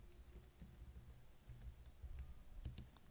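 Keys tapped out on a computer keyboard while a Linux firewall command is entered, soft irregular clicks in quick bursts, close and fairly quiet against a low background hum.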